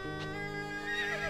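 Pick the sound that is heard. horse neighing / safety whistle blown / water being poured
horse neighing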